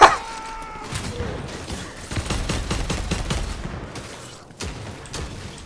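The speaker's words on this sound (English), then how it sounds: "Fucking machine gun!" Rapid automatic gunfire in the video game Vermintide 2, a dense burst of shots running for several seconds, loud and close, starting after a brief tone and trailing off into scattered shots near the end.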